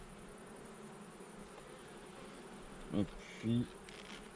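Honey bees hum steadily around a hive during a honey harvest, a faint continuous buzz with two brief spoken words near the end.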